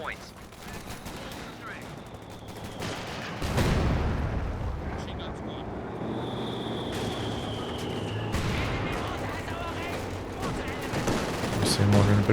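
Gunfire crackles through a Company of Heroes 2 battle, with bursts of machine gun fire and a heavy blast mixed into dense, continuous combat noise at moderate level.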